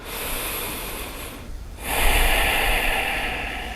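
Two strong breaths during a yoga practice, a long airy exhale, a brief quiet gap, then a fuller, louder inhale-exhale, close and breathy with no talking.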